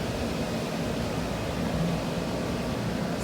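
A hotel room air conditioner at a riverside resort room runs with a steady, even broadband hiss and low hum, constant and moderately quiet with no voices.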